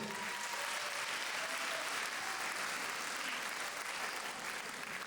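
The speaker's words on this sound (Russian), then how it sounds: "Бурные аплодисменты." A crowd at a Lezgin festive concert breaks into thunderous applause, a continuous dense roar of clapping that stays level and full for the whole stretch, heard from within the hall.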